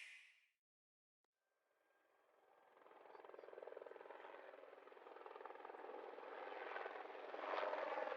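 Helicopter in a Nintendo Direct game trailer, rotor noise swelling from quiet to a steady, fairly faint drone after a brief silence, with no speech.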